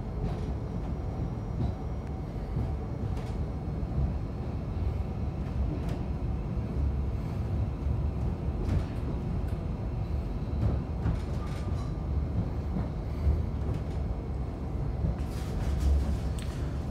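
A SouthEastern Railway passenger train departing London Cannon Street rumbles steadily along the rails, a continuous low roar with occasional clicks and rattles from the carriages, heard from inside.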